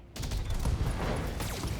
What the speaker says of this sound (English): That ammo explosion.